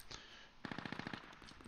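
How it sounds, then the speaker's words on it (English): A distant automatic cannon fires in a video game vehicle scene, a faint rapid burst of about eight shots after a lone shot and a pause. "Can hear the gun going."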